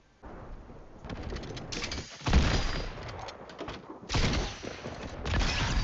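Video game gunfire crackles in rapid, uneven bursts. Several loud volleys hit close by, separated by brief pauses.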